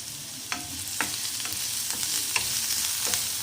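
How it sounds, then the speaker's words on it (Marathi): Finely chopped onion fries in oil with a steady soft sizzle, punctuated by regular spatula scrapes and knocks against the pan roughly every half second. "एक बारीक कापलेला कांदा टाकायचा आणि"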